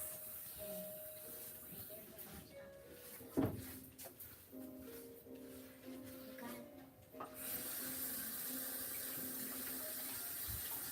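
Hands are washed under a running kitchen tap before tasting buttermilk biscuits, a quiet steady trickle and splash that briefly thuds and shifts, then brightens into a fuller hiss toward the end.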